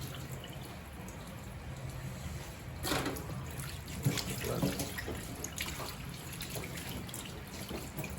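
Running water rinses blood from freshly filleted eel for chargrilled unadon, a steady, fairly quiet stream with a few soft splashes and drips, no talking.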